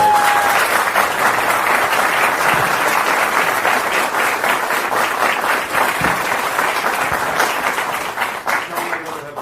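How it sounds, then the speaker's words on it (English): An audience at a 2007 public convention applauds in a dense, sustained burst of clapping from a large crowd, loud and steady for several seconds before thinning slightly toward the end, with no voices over it. "I think that we should all give Tom Boyd a round of applause"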